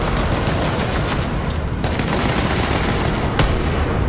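Rapid gunfire and booms from a Borderlands 3 firefight, dense continuous bursts of shots with sharp loud cracks layered over one another.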